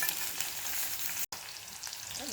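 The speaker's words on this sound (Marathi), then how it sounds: "तेल तापल्यानंतर मिरची आणि लसूण यामध्ये घालायचं आहे" Chopped green chillies and garlic fry in hot oil for a vegetable dish, giving a steady close crackling sizzle with a brief dropout midway and no talk.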